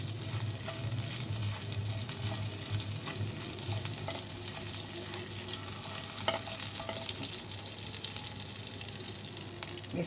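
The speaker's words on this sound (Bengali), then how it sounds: "এবার এটাকে একটু ফ্রাই করতে হবে।" Chopped green chili frying in hot oil in a pan for alu tiler sabji, a steady close sizzle with occasional stirring scrapes running continuously throughout.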